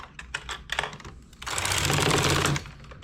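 The carriage of a knitting machine making a knitted top clatters across the needle bed in quick mechanical bursts, then sweeps across in a single louder run of about a second, close and alone.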